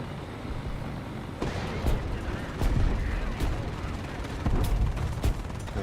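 Tank cannon fire in the War Thunder video game, a recoilless-rifle-like boom, with several sharp blasts and thuds over continuous rumbling battle noise, some near and some distant.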